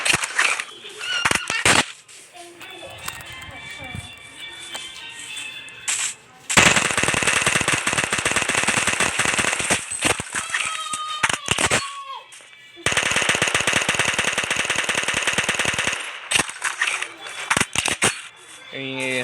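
Gunfire from a modded Minecraft game sounds as long, rapid machine-gun bursts separated by short pauses, with a voice talking at times.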